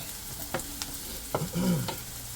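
Onions and garlic fry in a pan with a soft, steady sizzle, broken by a few scraping and clinking strokes as a utensil stirs them.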